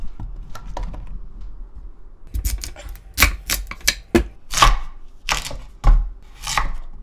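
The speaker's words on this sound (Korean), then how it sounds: "감자 썰어야지" A kitchen knife chops potatoes for a spicy braised pomfret and radish dish, a string of sharp close knocks on a cutting board in an uneven rhythm, loud and with no voices.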